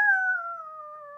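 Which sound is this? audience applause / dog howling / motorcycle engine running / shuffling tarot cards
dog howling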